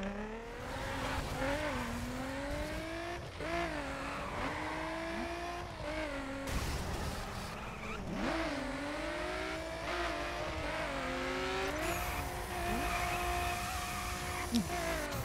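Race cars in The Crew video game roar through a continuous engine drone, pitch climbing and dropping with gear shifts and brief tire squeals, loud and steady throughout, with occasional voices mixed in.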